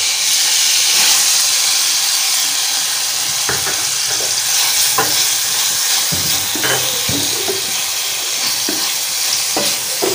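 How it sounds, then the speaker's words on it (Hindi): Tomato and onion frying in a pan, producing a loud, dense, continuous sizzle and hiss with intermittent spatula scrapes and clacks scattered throughout, and no talking. "हमने हल्का हल्का इनको फ्राई करना है बस, और साइड पर कर लेना है।"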